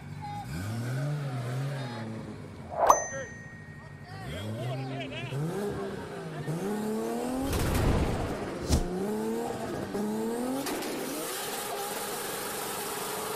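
A Toyota Supra and a Lamborghini race, engines revving in repeated rising sweeps as they climb through the gears, with louder roaring bursts in the middle and a voice heard alongside.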